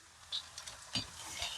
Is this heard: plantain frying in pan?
yes